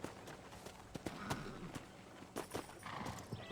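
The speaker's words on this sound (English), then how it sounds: "Ride your horse to the hitching post." Horse hooves in Red Dead Redemption, a quick clip-clop of hoofbeats at a trot, fairly close, with faint game voices in the background.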